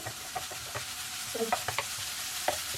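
Large onions sautéing in a pan for a black pepper crab roast give a soft, steady sizzle. A few stirring clicks and scrapes come through close by, with no talking.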